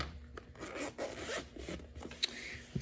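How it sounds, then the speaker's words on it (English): A zipper being pulled open on the small carrying case of an LED video light, a quiet close rasping run with a couple of short tugs and pauses, no voices. "It is zipper, so let's go and open that up."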